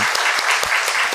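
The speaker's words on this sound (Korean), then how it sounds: "큰 박수로 우리 한번 영광 돌립니다." Church congregation at a Sunday worship service breaking into applause, dense close hand-clapping with a few sharper individual claps standing out, continuous throughout the short burst.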